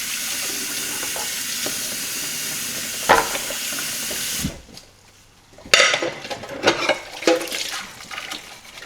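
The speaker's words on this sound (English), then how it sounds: "for now I'm gonna wash the dishes" Dishes being washed under a running kitchen tap, with a steady stream of water broken by clinks and knocks of dishware, a brief pause in the flow, then renewed splashing and clatter.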